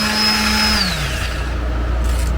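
A power sander with 80-grit paper works on painted interior metal of a 1962 Chevrolet C10 truck, a loud steady whir that drops in pitch as the motor slows.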